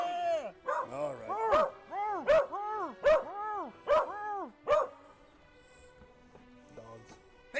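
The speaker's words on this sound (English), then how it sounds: "Dogs." Dogs bark in a quick series of loud, close yips and bow-wows during the first five seconds, then the room falls quiet apart from a faint background hum.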